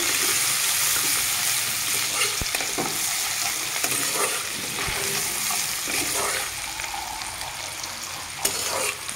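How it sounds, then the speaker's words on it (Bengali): Onions sizzle steadily in a pan while being lightly stirred, with occasional scrapes and clinks over a continuous frying hiss. "তো ভালোভাবে পেঁয়াজটাকে আমি হালকা নাড়িয়ে চেড়ে নেব।"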